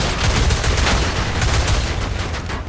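Rapid bursts of gunfire crackle in the video game Battlefield Play4Free, a dense stream of sharp repeated shots at close range, loud and continuous with no one talking.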